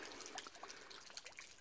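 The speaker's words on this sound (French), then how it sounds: "On entend bien le bruit de la cascade." A garden pond waterfall at night gives a faint, steady trickle and splash of falling water, continuous and soft, with no voices.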